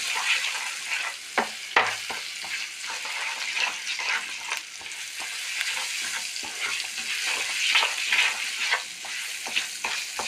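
Half a spoon of garam masala fries in a hot pan, a steady close sizzle broken by frequent short scrapes and taps of a spoon stirring it throughout.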